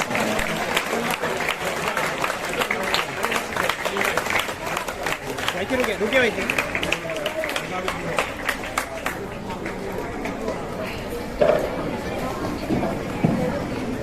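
Applause from an audience at an English-medium school event in Bhusawal, steady clapping with crowd chatter mixed in and talk over it, lasting throughout.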